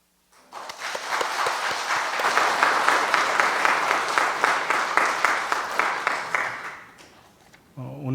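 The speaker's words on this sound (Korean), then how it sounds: "박수로 격려해 주시기를 바랍니다." A church congregation applauds during a Sunday service, the clapping swelling after a quiet start into steady, full applause, then thinning out as a voice comes in at the very end.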